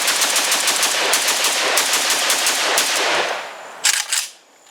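Rapid automatic fire from a Romanian WASR-10/63 KR short rifle, a loud, dense, sustained rattle of shots that cuts off, then a couple of short final bursts, close and alone.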